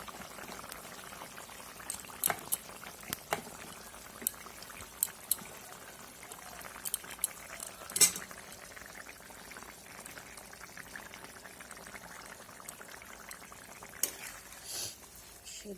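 Curry gravy for soybean kofta curry bubbling in a pot, a soft simmering burble with scattered pops and clinks over about fifteen seconds, fairly quiet and close.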